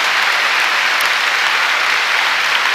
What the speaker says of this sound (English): It's an audio recording of all of the applause from all of Bob Dylan's live records during these years.